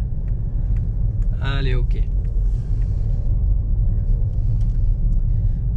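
A car with an automatic gearbox drives slowly, with a steady low engine and road rumble under brief speech from the driver.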